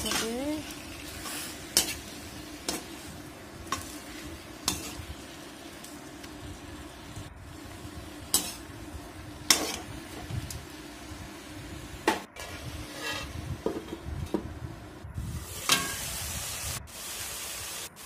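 A spoon stirs sour puthi fish curry with fiddlehead ferns in a pan after water is added. Scraping strokes and clinks repeat irregularly over a steady sizzle and bubbling.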